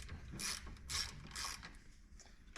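A ratchet works a 10mm bolt out of the steering column on a 2022 ZForce 950 HO Sport: three short clicking bursts spaced about half a second apart, close but fairly quiet.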